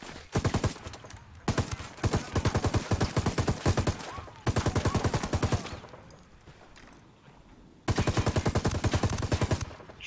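Bursts of rapid automatic gunfire in the co-op shooter Ghost Recon Wildlands, several long loud volleys of rattling shots separated by short pauses, with faint voices in the background.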